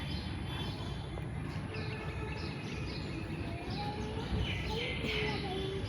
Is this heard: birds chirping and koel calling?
yes